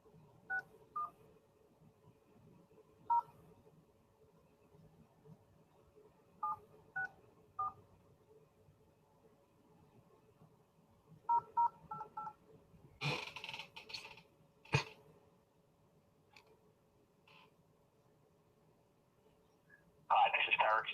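Telephone keypad tones dial out to a prospect during sales calling practice, short beeps in scattered groups over a faint line hum, then a brief burst of line noise and clicks before more tones near the end.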